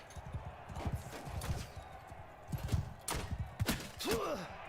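A horse in the Mount & Blade 2 Bannerlord video game trots with rhythmic hoof clip-clops, then gives a short whinny near the end, amid scattered thuds of battle.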